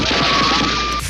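A man imitates a burst of gunfire with his mouth, producing a dense, loud stream of rapid popping bursts that runs for about a second before cutting off abruptly.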